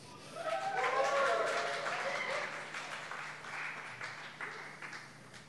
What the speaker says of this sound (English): Let's give him a cheer.